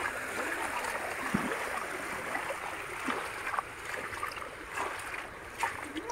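Floodwater runs out of a wetland toward a river in a flooded village, a soft continuous rushing and gurgling wash with occasional small splashes, fairly faint and steady without voices.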